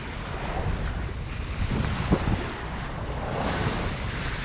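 A sailboat motors under engine on a solo passage across open sea toward Holyhead. Steady wind noise and the wash of waves fill the recording, with a low continuous engine drone underneath.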